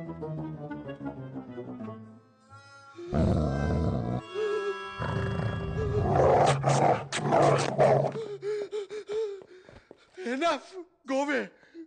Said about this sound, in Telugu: అదే కుక్క